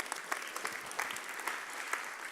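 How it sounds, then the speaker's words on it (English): Audience applause at a business and personal development seminar: a steady, continuous patter of many hands at moderate volume, heard slightly distant with no talking over it. "Let's give Margaret a clap."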